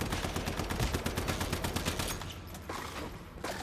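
Rapid automatic gunfire from a weapon in the video game Once Human, a dense run of close, loud shots that fades into sparser scattered bursts toward the end.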